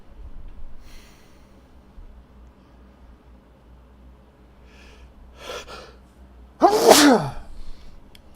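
Soft breaths and a short sniff lead into one loud, close sneeze in a video game near the end, against a quiet background.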